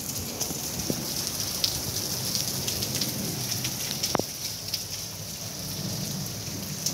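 Heavy evening rain falls in a steady, faint hiss of drops, with a brief sharper crackle partway through and no voices.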